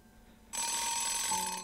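A telephone rings in the Nights of Azure video game, starting abruptly as a loud, steady electronic trill that continues without pause, with no talking.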